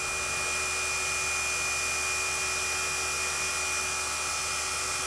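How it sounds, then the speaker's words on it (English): A steady high-pitched whine of a power sander on a wooden dice cup runs continuously without pause, loud and close, with no voices. "Do a little sanding and about done."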